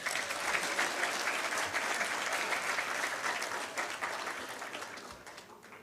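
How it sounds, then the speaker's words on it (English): An audience at a town hall on governance gives a round of applause, a dense wash of clapping that stays steady and then gradually fades out toward the end. "Give me a round of applause."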